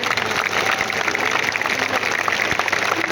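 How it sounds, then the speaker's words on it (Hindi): Students at a JEE/NEET orientation session applaud themselves in a loud, dense, steady burst of clapping that fills the room without a break. "तो खुद के लिए एक बार फिर से जोरदार तालियां बजा दीजिए।"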